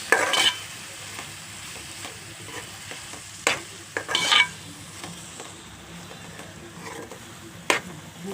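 A spoon scrapes and stirs through spiced vada curry in a pan after chili powder goes in, with intermittent clattering strokes over a faint low sizzle.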